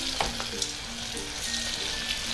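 Bread pakoda batter fries in hot oil in a kadhai, giving a loud, dense, continuous sizzle with faint crackles throughout and no talking.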